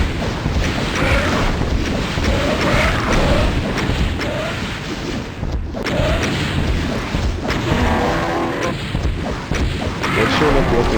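Rocket blasts boom and crash repeatedly in the shooter Doom Zero on PS5, loud explosive impacts in dense succession over a busy game soundscape.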